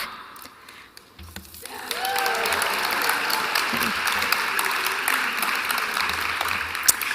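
A conference audience at the opening ceremony of ISAAC 2012 breaks into sustained applause that swells after a quiet start and keeps going as a steady wash of many hands clapping, with a few voices mixed in.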